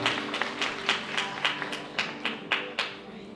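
Wedding guests in a hall clap along in a steady rhythm of crisp, evenly spaced claps, moderately close, against a faint tonal backdrop.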